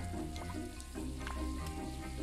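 Chicken sizzles in a frying pan in the video game Overcooked, a dense, continuous hiss with faint stirring sounds, steady and close throughout.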